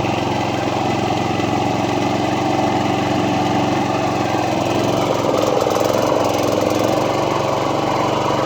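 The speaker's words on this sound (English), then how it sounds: "I think I've got to pull this handle to engage the blades" A John Deere commercial mower engine with grass bag runs steadily nearby, a loud, constant droning rumble with no pauses or voices.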